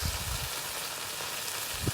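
A stir fry sizzles and crackles steadily in a hot pan, oyster sauce going in, a continuous hissing with a few low knocks, no voices.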